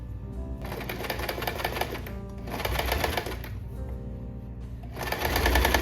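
A sewing machine stitching an invisible zipper, its fast even needle chatter running in three bursts with short pauses between, close and moderately loud.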